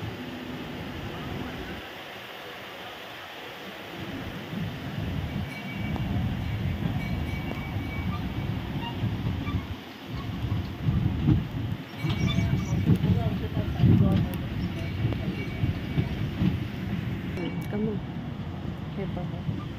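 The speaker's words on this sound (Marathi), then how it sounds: "अशी आमची झुकझुक गाडी चालली आहे पहा." A mini train rolls through the African Village at Dubai Safari Park, its steady low rumble and clatter continuous over about twenty seconds, with outdoor wind and passengers talking over it.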